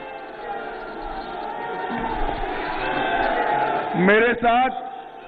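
A large crowd at a political rally in Gorakhpur roars and applauds in welcome for Home Minister Amit Shah, a sustained wash of noise that swells, with a couple of loud voices shouting over it near the end.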